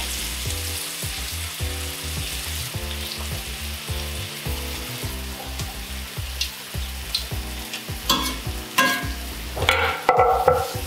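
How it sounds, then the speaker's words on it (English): Shallots and garlic frying in melted butter for beef Wellington: a steady close sizzle over a low repeating hum, with spoon stirs and clatter growing busier near the end. "So now that butter's melted, we're just gonna get in the shallots."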